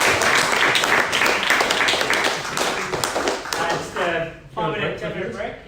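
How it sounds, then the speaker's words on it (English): An audience at a talk on genomics and transhumanism bursts into dense, sustained clapping for a few seconds. It tapers off as a voice takes over. "Another round of applause for Jones."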